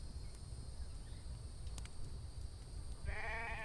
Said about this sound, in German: Jetzt kommt noch ein Schaf dazu.